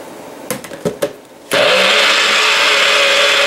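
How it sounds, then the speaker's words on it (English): A kitchen blender whirs through a sauce of fish stock, fennel and saffron, starting with a few short pulses before settling into a loud, steady, high-pitched roar that runs without any talk. "We're gonna blend it so that way we can get most of the color out."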